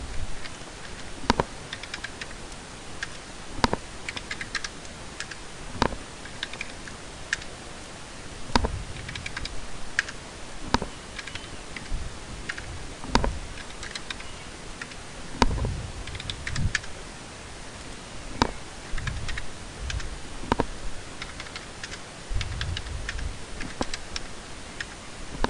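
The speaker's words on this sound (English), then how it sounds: "So we're going to just type our data in." Steady typing on a computer keyboard while data is entered, with quick irregular clacks and occasional sharper single keystrokes standing out, close up and alone, with no talking.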